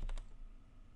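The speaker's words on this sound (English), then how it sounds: "So I'll type admin" Keys clack on a computer keyboard as a username is typed, with a quick run of three close keystrokes at the start and then a quiet background hum.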